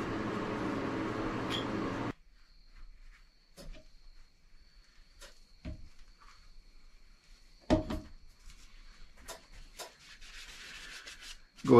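Leather conditioner wax being rubbed onto a handmade leather holder for a Stinger LED flashlight. A short burst of broad noise comes first, then quiet, scattered rubbing strokes and scuffs close by.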